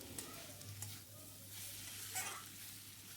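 Fried pointed gourd, potato and cauliflower go into a masala and are stirred and sautéed for a mixed-vegetable curry, giving a faint, soft sizzle with scraping stir sounds under a low background hum.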